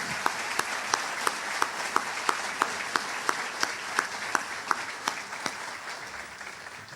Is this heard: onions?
no